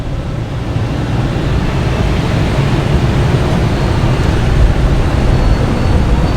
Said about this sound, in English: next taking off is JetBlue heading to Orlando, an A320 flight